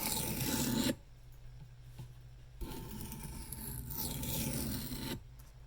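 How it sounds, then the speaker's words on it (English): A knife is sharpened freehand to take the burr off an Old Timer 5OTG Bruin blade in 1095 high-carbon steel. A few close, short rasping strokes come in separate bursts with quiet pauses between them. "I'm gonna just take that burr off real quick."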